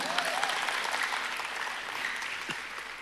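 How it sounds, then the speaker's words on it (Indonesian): A church congregation applauds during a sermon, a steady wash of many hands clapping at moderate distance that holds evenly for a few seconds with no clear speech over it. "Beri tepuk tangan."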